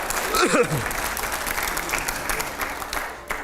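Studio audience applause on a televised debate show, steady clapping that fills the whole span, with a brief voice heard at the start over it.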